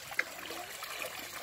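Water trickling along a ditch beside a river, a faint, steady gurgle with a small splash near the start, quiet and distant-sounding with no voices.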